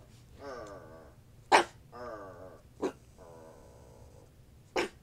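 A grumpy pug grumbles in low, drawn-out growly moans, three longer grumbles broken by a few sharp snorts, close up, with a person talking nearby.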